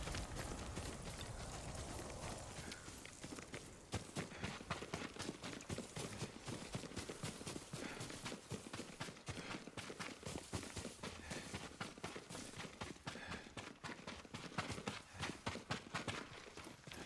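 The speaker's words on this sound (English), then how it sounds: "Yuriko's horse. She can't be far." A horse's hooves clip-clop steadily in the game Ghost of Tsushima, a continuous rhythmic run of hoofbeats over a dense, rushing outdoor ambience, faint and without talk.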